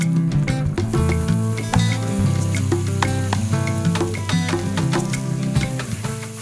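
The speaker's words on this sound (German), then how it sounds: "dann grüner Paprika und Zwiebel stark angeröstet" Green pepper and onion frying hard in oil in a pot for Nicaraguan gallo pinto, a steady sizzle running throughout beneath prominent background music.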